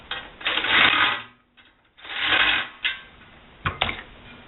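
Nuts with flat washers being tightened onto bolts through the chimney of a large rocket stove: bursts of ratcheting metal clicks, close and fairly loud, separated by short pauses, ending in a few sharper clanks.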